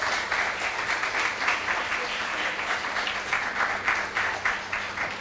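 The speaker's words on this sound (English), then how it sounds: "a very big round of applause to the teachers as well" Parents and family in a school hall applaud at a Grade V assembly programme, steady dense clapping from a large audience that holds at an even level for several seconds.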